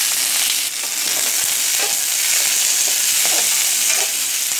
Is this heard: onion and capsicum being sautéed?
yes